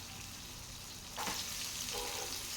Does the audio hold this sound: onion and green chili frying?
yes